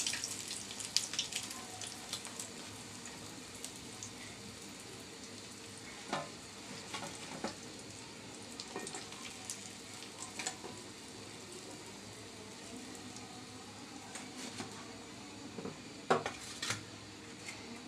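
Loitta fish frying in oil with spices, a faint, steady sizzle with occasional clinks of a utensil against the pan, no voices.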